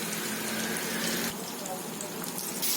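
Green chilies hit a hot pan of ginger-garlic paste and turmeric and fry with a steady, close hiss and sizzle throughout, with a slight shift in texture midway.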